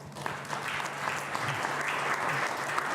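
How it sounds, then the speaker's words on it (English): Audience applause for the speakers at a university campus event, a dense patter of clapping held steady for three seconds at moderate level, with faint chatter underneath. "I will then propose applause for all the speakers, all of you who had questions."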